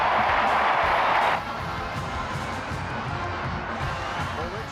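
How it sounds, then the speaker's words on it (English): A big football stadium crowd roars and cheers at an Iowa Hawkeyes game, loud and dense at first, then settling into a steady, lower wash of crowd noise. "Listen to this crowd."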